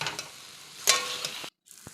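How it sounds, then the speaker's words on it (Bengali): Potatoes and cumin spice paste sizzle in a pan for aloo dum, a crackling fry broken by scraping spoon strokes, then a brief silence before the sizzle resumes faintly. "ভেজে নিচ্ছি।"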